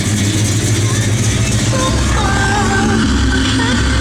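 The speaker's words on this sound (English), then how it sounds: "This car's got a great sound to it." A 1969 Chevrolet Chevelle SS V8 running at idle, a deep steady rumble heard up close throughout, with someone talking over it.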